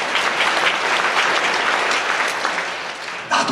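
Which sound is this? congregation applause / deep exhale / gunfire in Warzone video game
congregation applause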